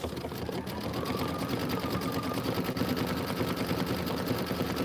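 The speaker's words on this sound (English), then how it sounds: "I'm gonna go ahead and do the decorative stitching right here." An embroidery sewing machine runs steadily, stitching a decorative border in garnet thread with a rapid, even mechanical rattle that stays loud and close throughout.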